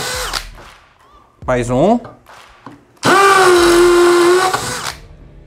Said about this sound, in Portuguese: Agora teste de perfuração em alvenaria com a posição de impacto ativada, começando com broca de 6 milímetros.